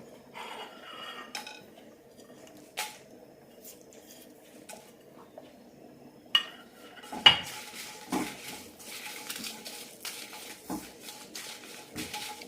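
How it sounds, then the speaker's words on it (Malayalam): Chillies, curry leaves and garlic dry-roasting in a pan over a low flame for an instant chutney mix: sporadic metallic clinks and scrapes of a spoon against the pan over a low, steady hum, with no talking. "ഇനി മുളകും കറിവേപ്പിലയും വെളുത്തുള്ളിയും വറുത്തെടുക്കാം"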